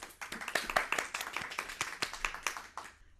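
Small group clapping for a quiz winner on a children's sports quiz show, a brisk, close patter of individual hand claps with audible separate strikes, steady for about three seconds before stopping, with no talk.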